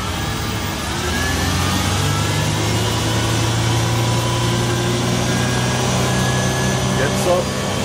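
A 2005 Sea Ray 240 Sundeck engine holds cruising speed, giving a loud, steady drone with wind and water rush, while someone talks over it.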